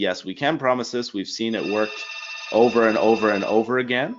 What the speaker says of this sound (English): Sorry about the phone there